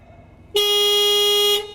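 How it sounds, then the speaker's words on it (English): Horn on the ECO 1000 machine signalling the system is ready: a single loud, steady tone lasting about one second, starting abruptly over a quiet background and cutting off cleanly. "Once that we will hear the horn noise, the system will be ready to work."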